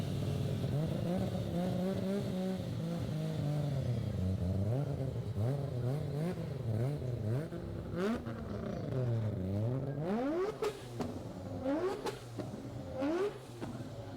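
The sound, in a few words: rotary sports car engine accelerating loudly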